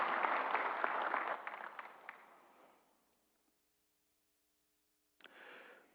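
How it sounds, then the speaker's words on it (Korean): A church congregation applauds a scholarship award during a Sunday service, dense clapping that fades out over about three seconds, followed by near silence before a voice resumes. "우리 박수로 격려하겠습니다."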